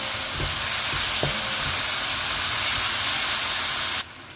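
Spring onions sizzle and fry steadily in a pan of egg sauce, a loud, close, continuous hiss with a few soft stirring knocks early on, cutting off abruptly near the end.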